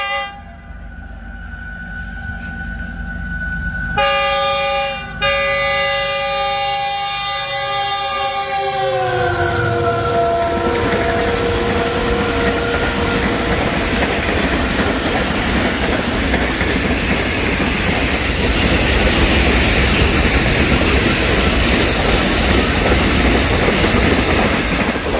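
Karachi Express passenger train rushing past Dhabeji railway station at high speed, its horn blaring in a long multi-tone blast before giving way to a loud, sustained roar of wheels and carriages.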